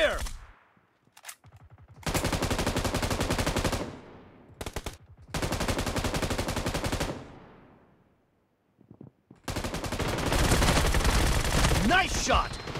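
Rapid automatic gunfire from the video game PUBG in a team deathmatch, loud bursts of repeated shots separated by short pauses and ending in a long sustained volley.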